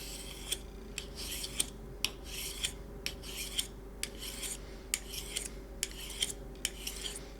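A knife blade is drawn heel to tip across a sharpener in quick, even rasping strokes, about two per second, close and moderately quiet over a low steady hum.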